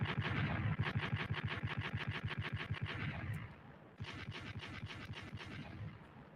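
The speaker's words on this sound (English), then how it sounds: "Gunshots, you heard? Also followed by some bombs." Gunshot and bomb sound effects played on a podcast: rapid repeated shots ring out loud and close, a brief pause, then a second burst of fire with heavy booming rumble underneath.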